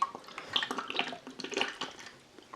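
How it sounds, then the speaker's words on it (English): Fegley's Brew Works Rude Elf Reserve, a Christmas seasonal ale, is poured with a heavy splashing, liquid trickle that rises and falls for a couple of seconds, fairly close and soft, with no talking. "Oh, heavy pour required to get any head."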